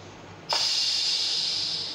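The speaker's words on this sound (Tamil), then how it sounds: "ஒரு 5 விசில்ஸ் விடலாம்." A pressure cooker whistle: a sudden loud, high-pitched hiss bursts in after a moment of quiet and holds steadily, fading slightly toward the end, like steam jetting from a valve, while chicken curry cooks.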